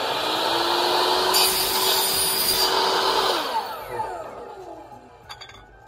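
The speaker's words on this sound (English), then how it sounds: "so I'm gonna use power tools instead" A power tool whines steadily as it cuts through a paddle shaft, loud and close for a few seconds, then winds down and fades into quieter clatter.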